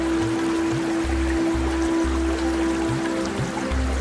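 A flowing stream of water at a waterfall feeding the Barsani river in the Hindon river headwaters, a steady rushing wash with low gurgling pulses, continuous and fairly close, no voices.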